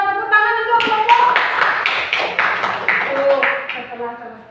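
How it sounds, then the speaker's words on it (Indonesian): Children in a primary school classroom clap together for a group, a lively burst of repeated hand claps that fades out, with voices heard alongside. "Tepuk tangan untuk kelompok"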